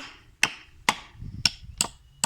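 A nail being hammered into a tree, five sharp metallic strikes at a steady, slightly uneven pace, close and clear with a faint low rumble between blows and no talking.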